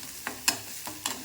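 Mustard seeds, curry leaves, urad dal, onion and dried red chillies sautéed in a pan, giving a few soft, evenly spaced stirring scrapes over a faint low sizzle, close and quiet with no talk.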